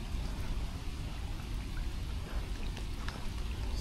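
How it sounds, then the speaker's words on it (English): Hard rain falling on a flooded creek, a steady rushing patter of drops on water with occasional sharper splashes, fairly close and continuous without talk. "It started raining kinda hard"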